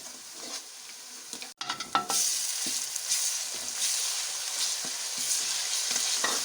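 Onions with ginger-garlic paste frying in a pan give a steady broadband sizzle, with a few sharp scrapes and clanks of a spoon stirring near the start and more faint stirring scrapes scattered through.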